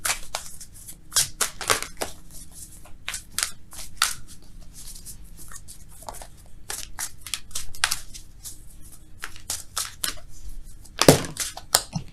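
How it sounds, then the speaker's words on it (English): Tarot cards are shuffled by hand in a run of quick, crisp riffling and slapping bursts, close and fairly quiet, with no talk over them. "Let's shuffle for real, though, okay?"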